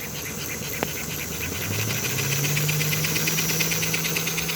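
A model train's mechanical chuff sound unit runs at about ten volts, giving a fast, even, repeating chuff over a motor hum that rises in pitch after a brief click.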